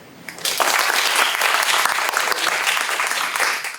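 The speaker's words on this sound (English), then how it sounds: "let's give a round of warm and a great applause to him and welcome him" Sustained applause from an audience at an academic public talk, dense and steady clapping that swells quickly after a quiet start and carries on loudly for several seconds before tapering.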